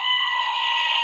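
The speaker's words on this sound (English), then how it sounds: "It's a screaming goat." A screaming goat sound effect lets out one loud, sustained, strained bleat lasting about a second, alone and clear.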